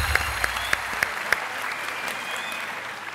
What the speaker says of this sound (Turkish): Ankara doğru cevap. Alkışlıyoruz arkadaşlar.